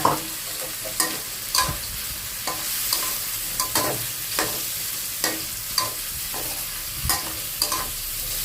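Straw mushrooms are stir-fried in a hot pan, a continuous sizzle punctuated by regular sharp scrapes and clanks of the spatula roughly every half second, close and clear with no talk.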